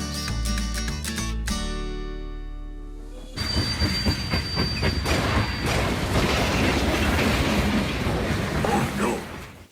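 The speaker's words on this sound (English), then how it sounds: "Counting those railroad cars." A freight train of railroad cars rolls past with a loud, steady rumble and rattling wheels, a high metallic squeal of wheels cutting in partway through, no voices.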